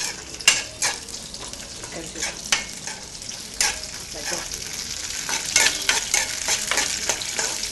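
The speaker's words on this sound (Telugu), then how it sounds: "పచ్చిమిరపకాయ ముక్కలు కరివేపాకు వేసి కాస్తంత దూరగా వేయించుకోవాలి" Green chilli pieces and curry leaves fry in hot oil in a pan, giving a steady broadband sizzle with repeated clinks and scrapes of a spoon stirring against metal. There is no talking.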